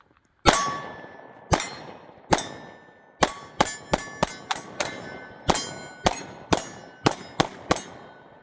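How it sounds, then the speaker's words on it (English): Glock 43x pistol loaded with Micro Dagger magazines fires about fourteen sharp, loud shots, some in a quick string and others with short pauses, each crack ringing briefly, with no talking. "Let's do some more shooting."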